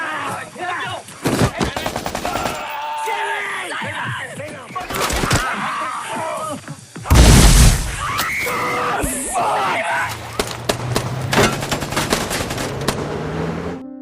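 A gun battle from the film Da 5 Bloods, with loud bursts of automatic gunfire and single shots, shouting and screams, and a heavy blast partway through, in a chaotic, close-up fight.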